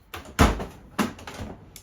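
A few wooden cupboard doors thud shut nearby, two or three distinct knocks with a softer bump between them.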